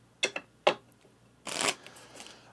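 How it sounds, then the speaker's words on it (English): Cards from the barbarian deck of a board game shuffled close by: two quick riffle-like snaps, then a longer dense burst of cards rasping together, alone without talk. "I said I was going to shuffle the barbarian deck."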